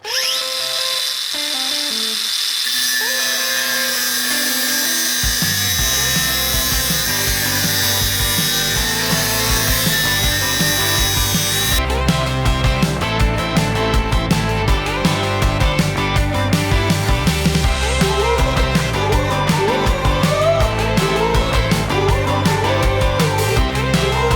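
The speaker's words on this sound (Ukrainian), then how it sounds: "і болгарка бодріше на ній працює" A DeWalt DCG 405 N cordless angle grinder whines continuously cutting concrete, grinding steadily with a harsh, gritty roar that shifts pitch as it bites into the hard material.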